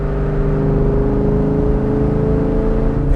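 A 2002 Ford Mustang GT with a 4.6 V8, five-speed manual and Trick Flow heads cruising on the road, its engine a steady, loud, even drone with a low rumbling note and no talk.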